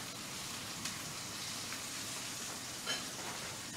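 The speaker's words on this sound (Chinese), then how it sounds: "輕輕煎一煎一邊" A thick silver cod steak seasoned with black pepper and salt fries gently in a pan, giving a soft, steady sizzle with a faint crackle and no talking.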